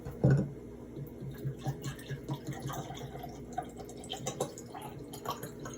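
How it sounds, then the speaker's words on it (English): Water poured from a container into another vessel, producing faint, soft trickling and dripping with a small splash at the start, quiet and close. "I have some H2O, so I'll just pour that in there."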